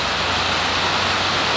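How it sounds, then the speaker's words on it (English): Steady rain falls outside, a dense, even hiss of drops heard from indoors, continuous and fairly loud with no voices over it. "as you can hear, it's raining outside"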